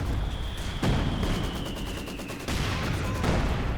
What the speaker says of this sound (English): Oh, doubles SU-76 barrage.